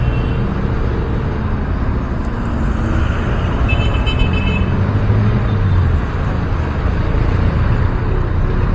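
Loud, steady road traffic rumbles close by, with engines droning and a few brief car horn toots rising above the noise.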